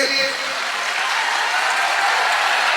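Audience of students applauds steadily for about three seconds, a dense, even wash of clapping with a brief voice at the very start.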